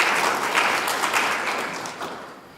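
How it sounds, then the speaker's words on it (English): Crowd applause, a dense burst of many hands clapping that gradually fades toward the end. "Let's give him a warm round of applause as well."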